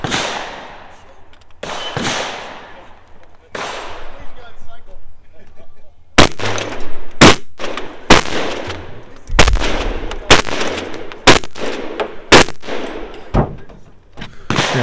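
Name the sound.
shotgun and pistol gunshots at a shooting competition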